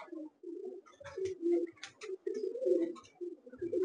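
Pair of Malwai pigeons cooing close by in a series of low throaty rolling coos, repeated in uneven bursts with short gaps and faint rustling between, no talk.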